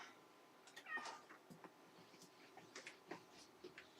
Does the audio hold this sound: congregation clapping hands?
no